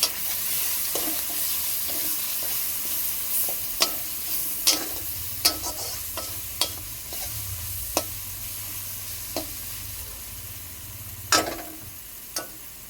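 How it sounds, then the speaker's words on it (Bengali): Coriander powder and salt being stirred into spices in a pan: a steady soft sizzle with repeated scraping clicks of the spoon against the metal, a low hum running underneath, no voices. "ভালোভাবে নেড়ে নেব"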